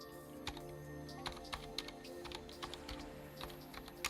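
Computer keyboard typing while a Spring Boot project with OpenCV is being coded: irregular bursts of soft key clicks at close range, fairly quiet, with no talking.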